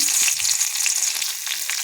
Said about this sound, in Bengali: কড়াইয়ে সর্ষের তেল দিয়েছি, ফোড়ন দেব রসুন